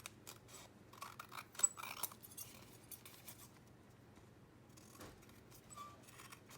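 Scissors trim a collaged paper journal card made from scraps, giving a few light, quick snips and crisp paper rustles close by over a low background hum.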